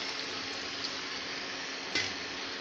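Water pours steadily into a simmering tomato and potato gravy in a pan, a soft continuous hissing splash with a faint sizzle beneath, no voices.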